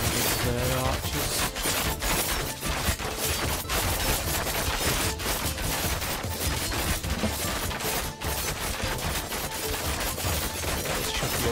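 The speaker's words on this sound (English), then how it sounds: "My archers firing." Archers firing in the Thronefall video game during a battle, a dense clatter of overlapping impacts and shots filling the clip at a steady level, with game sound effects and what may be a voice underneath.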